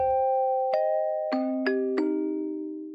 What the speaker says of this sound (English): So now we only got this clean low bell right here.